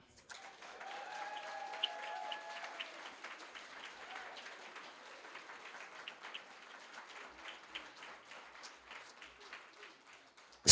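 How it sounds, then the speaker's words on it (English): An audience claps steadily for about ten seconds at Amherst Island Radio's 20th anniversary celebration, with soft, dense, fairly distant applause and a few faint tonal sounds near the start. "Please clap."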